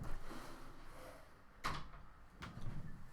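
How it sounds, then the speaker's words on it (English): An indoor door is pulled shut, giving two soft thuds about a second apart over a steady low room hum. "Let me shut my door."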